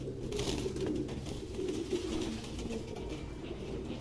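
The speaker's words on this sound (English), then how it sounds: "No human could live with all these fucking pigeons." Pigeons coo steadily in a cluttered indoor nest scene from the video game Detroit: Become Human, several overlapping low, throaty calls running continuously over a dense background murmur.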